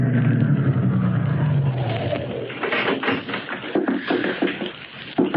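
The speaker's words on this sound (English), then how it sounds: "a big car drove up to the only entrance" A big limousine drives up for a 1940s radio drama, its engine a low rumble at first that gives way to a broad rushing roll with crunchy tire or gravel texture, moderately loud and unbroken, with no voices.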